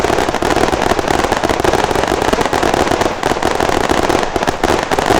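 Dense, continuous crackling bursts of firecrackers going off in rapid succession during a Diwali celebration, loud and close, with no pauses for the whole stretch.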